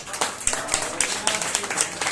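Scattered hand claps from an audience at a live Hindi shayari poetry program, a handful of distinct sharp claps spread across the moment rather than sustained applause.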